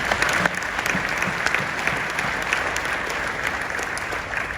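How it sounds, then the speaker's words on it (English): A conference audience at a real estate wealth event breaks into a round of applause, steady dense clapping from a large room that carries evenly at moderate loudness without speech over it. "Give that a round of applause."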